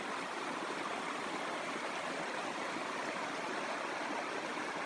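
Water flows at the Cascades on the Bibbulmun Track. A steady, full rushing sound holds at an even loudness throughout, close and continuous, with no voices.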